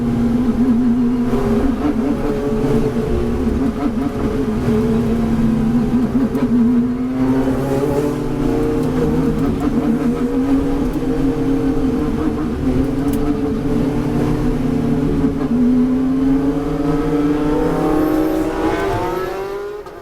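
A Ferrari Challenge race car accelerates hard off the line at the start of a wet sprint race, its engine note climbing steadily and loud through the gears over twenty seconds, with other cars' engines blending in behind.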